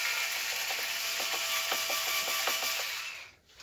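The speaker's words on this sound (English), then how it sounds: "an electric screwdriver definitely comes in handy when doing things like this" An electric screwdriver drives small laptop screws into an HP Omen laptop with a close, continuous high whir. Rapid ratcheting clicks sound under it before it winds down near the end.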